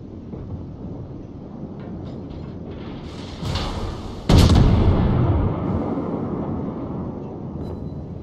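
Naval artillery from the Kaiser battleship in World of Warships fires with a sharp, heavy boom followed by a deep rolling rumble that fades slowly, preceded by a smaller blast and set over steady engine and wind noise.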